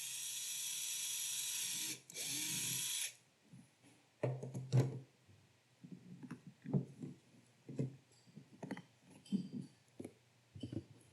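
A drill with a 3.4mm bit whines through PLA and a plastic container in two bursts, stopping briefly in between. Irregular clicks and knocks of handling the plastic follow, and nobody speaks.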